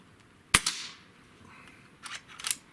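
A single sharp crack of a JTS Brawn air rifle firing a 29.32 grain pellet, close and loud, followed by faint clicks and a pellet impact sound.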